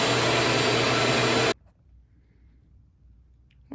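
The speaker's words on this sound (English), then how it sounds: "I can just press the button for number 1 here. Shop vac will go on." A shop vacuum roars loudly with a steady broadband whoosh, then cuts off abruptly partway through, leaving a quiet room with faint low rumble and a brief noise at the end.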